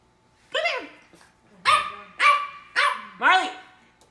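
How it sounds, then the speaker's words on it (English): A French Bulldog puppy barks indoors, giving four or five sharp, close yips spaced about half a second apart with quiet gaps between them. "Who are you barking at?"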